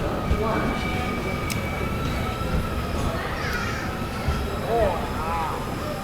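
Sampark Kranti Express at a railway station platform: a steady rumble of rail cars with brief wheel squeals and clanks, under nearby voices and station murmur.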